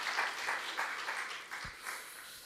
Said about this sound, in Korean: 감사의 박수를 전합니다